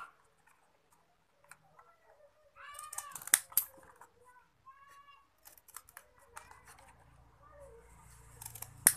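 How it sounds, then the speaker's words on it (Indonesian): Scissors cutting while making ketupat pasar (lepet), a series of sharp close snips and clicks in an uneven rhythm, with light rustling and a few high chirpy tones between cuts. "Kita gunting."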